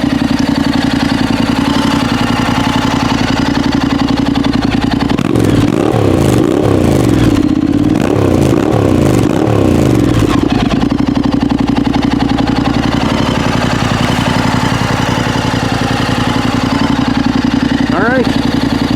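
A Honda NC750X motorcycle fitted with a Delkevic muffler idles nearby with a steady low exhaust drone, and a few throttle blips rise and fall in the middle before it settles back to idle.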